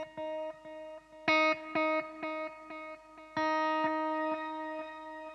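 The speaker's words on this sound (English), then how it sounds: "that's a really cool thing you can do with the shimmer" A Boss DD-200 delay pedal set to shimmer mode turns plucked guitar notes into bright, pitch-shifted echoes that ring and repeat with rhythmic decaying trails, ending in sustained, layered shimmering tones.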